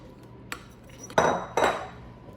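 A utensil clinks and scrapes against a bowl while seitan filling is mixed in, with two louder scraping strokes after a light tap, close and without talk.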